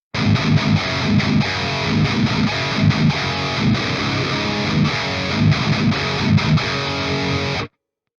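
Loud, heavily distorted electric guitar played through V30 speaker cabinet impulse responses chugs through a riff at a steady pace, alone and without talk, then stops abruptly.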